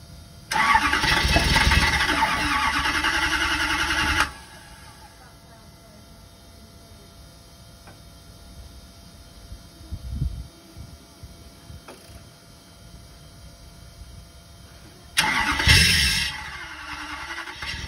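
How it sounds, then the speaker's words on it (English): A Toyota 1UZ-FE turbo engine cranks with the starter motor staying engaged: a loud, rough grinding roar for about four seconds, a quieter stretch with faint voices and clicks, then a second loud burst of cranking. "Could be the starter motor staying engaged."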